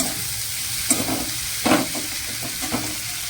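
Onions frying in a pan sizzle steadily up close, with a few louder scrapes and stirring knocks of a utensil against the pan breaking through the constant hiss.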